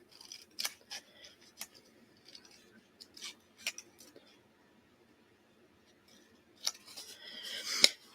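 Scissors snip at a one-armed cloth doll's hair in a few quiet, sparse cuts, close and faint, with a small cluster of louder snips near the end.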